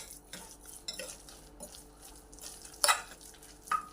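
Powdered sugar and lemon juice being stirred together with a spoon in a bowl, giving soft scraping and a few sharp clinks of metal against the dish, close and fairly quiet, with no talking.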